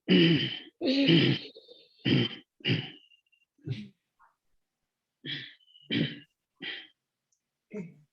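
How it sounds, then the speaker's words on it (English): A series of breathy throat-clearing exhales during Ujjayi pranayama breathing, short raspy bursts separated by pauses, close and fairly loud, with no other sound between them. "Think something is stuck in your throat and you are clearing your throat."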